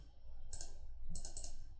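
Fingers type on a computer keyboard in two short bursts of quiet, rapid keystrokes separated by a brief pause, with no voices.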